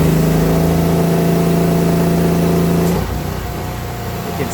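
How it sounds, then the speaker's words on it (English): A mini forklift on a trailer runs its engine in a loud, steady mid-pitched drone close by, then drops to a quieter, rougher idle partway through. "It's like a mini forklift."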